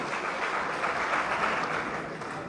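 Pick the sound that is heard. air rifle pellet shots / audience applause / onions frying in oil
audience applause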